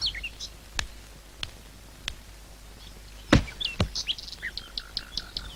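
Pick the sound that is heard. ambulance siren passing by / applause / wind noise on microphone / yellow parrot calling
yellow parrot calling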